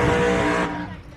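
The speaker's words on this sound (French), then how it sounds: "c'était une caisse qui chauffait ses pneus avant de partir pour un 400 mètres" A drag racing car heats its tyres with a burnout before a quarter-mile run at a European drag racing meet, a loud, close, continuous roar of engine and spinning rubber that fades slightly toward the end.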